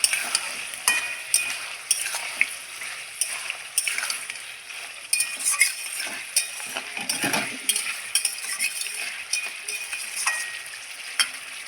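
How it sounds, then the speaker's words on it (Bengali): Spices fry with drumstick and squash in a curry while being stirred, producing a continuous sizzle with repeated scraping and clinking of a utensil against the pan. "আবারও ভালোভাবে নেড়ে নেবো"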